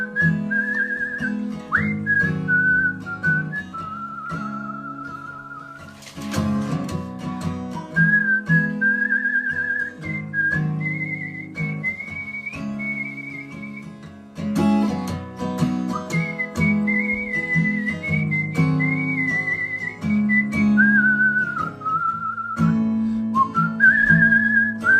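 A person whistles a melodic tune alone, clear and close, with short phrases broken by brief pauses and faint background accompaniment.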